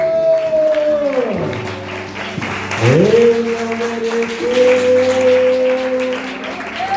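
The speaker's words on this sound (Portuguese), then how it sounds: "aplaude o Senhor." A church congregation at a special Sunday school service applauds, with a broad clapping wash under sustained organ-like tones and a singing voice that glides and holds notes.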